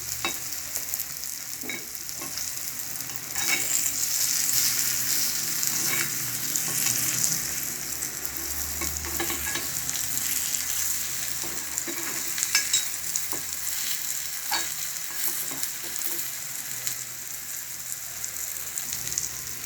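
Egg paniyaram frying in a pan with pepper and salt, a continuous close crackling sizzle that swells after a few seconds, with scattered sharp pops and occasional spatula contact as pieces are flipped, no voices.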